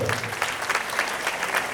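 Strong applause from a gathered audience at a public folk event honouring a donor, steady dense clapping filling the whole moment.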